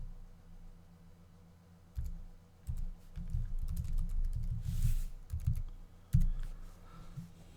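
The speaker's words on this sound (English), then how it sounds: "So I'm going to go ahead and type" Bursts of typing on a computer keyboard, soft irregular key clicks coming in clusters with short pauses, close and fairly quiet, with no talking.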